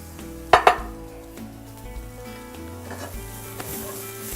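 Onions and peppers sautéing in oil in a Teflon pan, a steady sizzle with a couple of sharp clinks of a utensil against the pan near the start and light stirring scrapes throughout.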